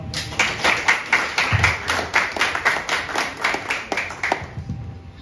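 A small audience at a closing ceremony of a government ministry workshop on environment and education claps in a steady, rhythmic beat, about twenty even claps that stop abruptly, with no talking over them.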